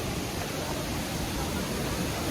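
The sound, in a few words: waterfall near Rishikesh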